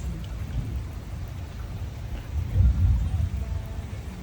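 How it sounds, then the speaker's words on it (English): Low, heavy thunder rumbles outdoors during a flooding storm, a steady deep rolling that swells louder partway through before easing back, with no voices over it. "The thunder's still going."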